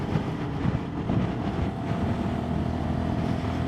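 A 2022 Sinnis SM-R 125 motorcycle's small engine and exhaust running steadily, with a loud, continuous buzzing drone and a slightly odd, flatulent exhaust note, without any voices.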